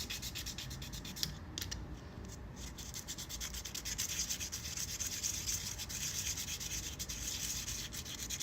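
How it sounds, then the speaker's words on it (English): Steady, continuous sanding by hand, a loud, even scratchy rubbing that keeps going without pause from start to finish, close up with no talking. "Sand."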